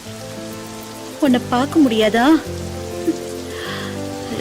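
Steady rain pouring down outdoors, a constant hiss that continues throughout while a voice speaks briefly over it.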